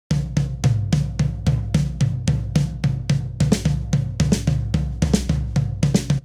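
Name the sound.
drum rudiment played on two drums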